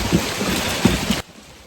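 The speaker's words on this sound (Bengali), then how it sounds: "কি অবস্থা, ভয়াবহ বৃষ্টি।" Heavy rain outdoors on a forest walk to a waterfall, a dense, loud, enveloping wash of noise that drops off sharply after about a second, leaving only a faint hush.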